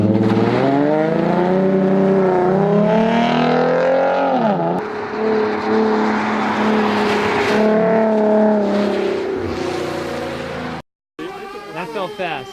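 A car revving and accelerating hard on a timed race run against a Focus RS, the engine note rising loud and close through the gears, cut briefly near the end.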